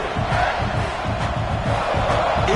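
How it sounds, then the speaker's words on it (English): A college football stadium crowd roars loudly at a South Carolina vs Florida game in CFB 26, a dense sustained wall of cheering and yelling with no breaks. "this crowd is fired up. Listen to this noise here."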